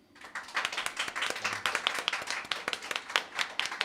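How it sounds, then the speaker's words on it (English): Audience applause after a live music performance at a radio show event, steady clapping from a modest crowd, fairly distant and soft. "Warm applause, please."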